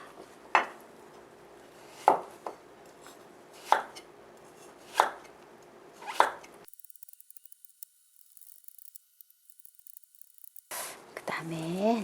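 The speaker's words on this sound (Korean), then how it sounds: "지금 이렇게 팽이버섯 길이 정도 되게끔 이렇게 좀 얇게 채를 썰어줄 건데요" A knife julienning carrot on a cutting board gives five sharp, evenly spaced chops about a second and a half apart. A quiet gap follows, then a brief clatter.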